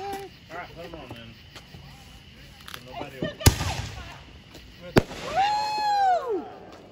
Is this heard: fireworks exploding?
yes